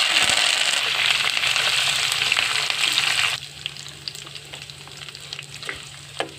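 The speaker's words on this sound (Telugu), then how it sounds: "ఇక వేగుతున్నాయి, కొంచెం వేగాలి." Curry leaves and dried chillies fry in hot oil for a mango pickle tempering, a dense loud crackling sizzle that suddenly drops to a quieter sputter with scattered pops, with no voices.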